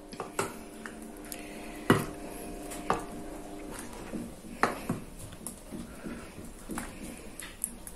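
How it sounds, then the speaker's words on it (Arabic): Lentil soup is ladled into a plate in a home kitchen. Soft, scattered clinks and scrapes of a utensil against dishes sound close by, with quiet pauses between them. "بنطفي عليه النار ونغرفه في الطبق."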